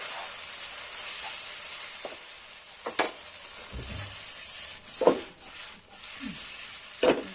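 Veg chowmein sizzles and fries steadily in a hot wok after a splash of soy sauce, with a constant hiss broken by occasional scrapes and clanks of stirring.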